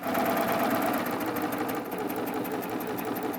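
A serger stitches steadily with decorative thread for a crochet-style edge, its knife blade engaged. The motor whirs loud and close in a fast, even running rhythm throughout, with no talking.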